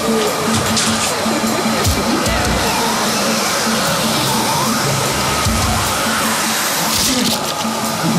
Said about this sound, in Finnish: hae imuri